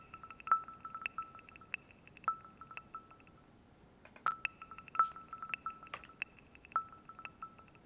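A Windows 11 ringtone plays alone as bright, repeated electronic tones in a quick rhythmic pattern, clear and fairly loud, with short pauses between phrases.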